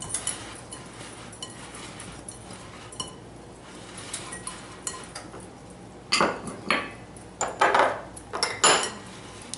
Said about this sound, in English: Alright, whisk that together.